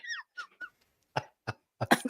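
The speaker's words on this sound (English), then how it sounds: "Stop fucking coughing!" A person coughs in several short, sharp bursts spaced over a couple of seconds, close and fairly loud, with a brief vocal sound at the start.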